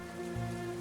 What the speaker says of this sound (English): The rhythm of droplets on the pavement echoes through the city's desolate alleyways